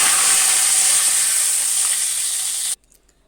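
A splash of water hits hot oil tempered with cumin seeds and two bay leaves, giving a loud, bright hissing sizzle that holds steady for under three seconds and then cuts off abruptly.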